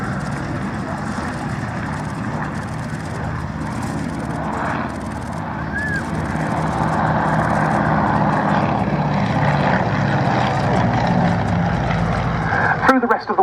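Avro Anson twin piston-engined light transport aircraft at the RAF Cosford Airshow, its steady propeller drone swelling louder and nearer midway through, with narration running over it.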